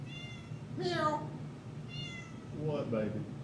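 A cat meowing at home, two or three drawn-out meows with gaps between them, close and clear over a low background hum.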